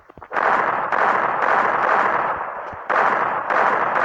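Rapid gunfire bursts from the video game Free Fire, loud dense crackling shots in several sustained volleys with brief gaps, close and dominant with no talk.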